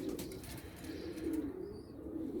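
A pigeon coos in soft, repeated low rolling calls, close and fairly quiet over a light background hiss.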